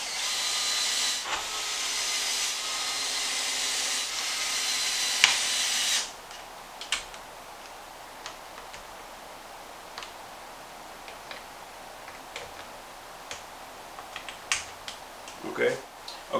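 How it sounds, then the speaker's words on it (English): Small screws being driven back into an XMAXX RC car driveshaft, first under a loud steady hiss, then as scattered faint ticks and clicks of the tool and parts, close by. "Just go ahead and put those screws back in."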